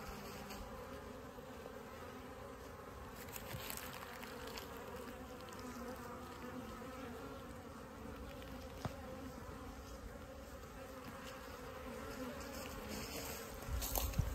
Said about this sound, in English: there is a good population of bees, and they are not happy that I'm in there